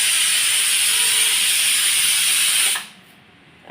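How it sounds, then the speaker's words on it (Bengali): A kitchen pressure cooker whistles steadily while cooking dal, giving one loud, sustained hissing steam whistle that cuts off sharply near the end and leaves quiet behind it. "আর এদিকে আমার সিটি দিচ্ছে কুকারে ডাল।"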